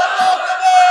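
A large gathered crowd answers a religious sermon with the takbir chant, a loud unified roar of many voices held for about a second.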